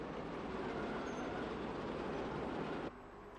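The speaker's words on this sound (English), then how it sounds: "A train of rail cars arrives at Bandon." A 1950s Irish railcar train arriving at Bandon station gives a continuous rolling rumble and rattle at moderate distance, then drops away suddenly near the end.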